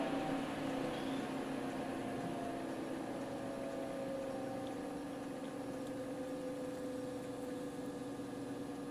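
A NOEVSBIG solder fume extractor fan runs at low speed, giving a steady, close motor hum and airy whir that holds constant throughout.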